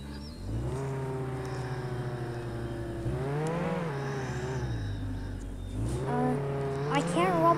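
Car engine of a vehicle spawned in a video game, idling and revving in rising and falling pitch sweeps, fairly close and steady, with game sounds layered over it.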